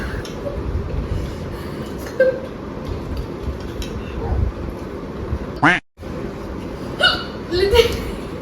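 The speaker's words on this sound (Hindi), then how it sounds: "Hichki is real" Repeated hiccups from a person after eating 3x spicy noodles, sharp short gulps scattered through the clip amid chatter and background noise, with people talking throughout.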